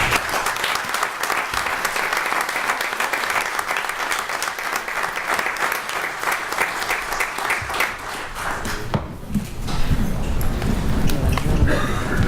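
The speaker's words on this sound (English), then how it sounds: "I'd like to give those family members who supported those men for that many years a round of applause" Round of applause at a county Board of Supervisors meeting for family members of long-serving men, a dense roomful of clapping that carries steadily for about nine seconds before thinning into murmuring voices and room noise.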